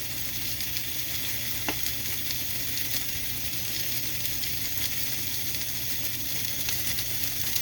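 Seasoned chicken breasts, dusted with garlic and onion powder, frying in a pan, giving a steady, even sizzle that stays close and constant throughout with no talking.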